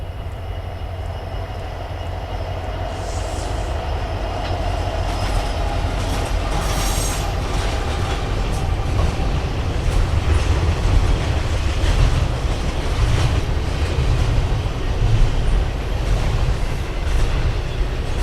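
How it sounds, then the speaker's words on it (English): A westbound Norfolk Southern intermodal freight train rolls past on the Chicago line in Berea, a loud, steady rumble of wagons with rhythmic wheel clatter and occasional squealing, close by and alone. "one more Norfolk Southern intermodal train would make its way through westbound on the Chicago line"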